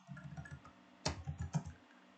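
Computer keyboard typing a short Linux command, a handful of soft quick key clicks followed by a sharper keystroke and a few more taps, close and quiet.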